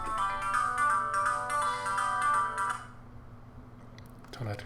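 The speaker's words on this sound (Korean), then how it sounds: "전화를 끊겠습니다. 중요한 전화가 아니라서요." A mobile phone ringtone plays a loud, repeating melodic pattern for nearly three seconds, then stops abruptly, leaving a faint steady hum and a brief rustle at the end.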